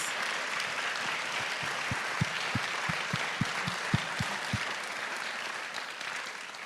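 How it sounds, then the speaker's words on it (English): An audience applauds the panelists at a desegregation history event, steady broad clapping from a seated crowd with a few sharper individual claps standing out near the front. "Let's give all of our panelists a nice round of applause"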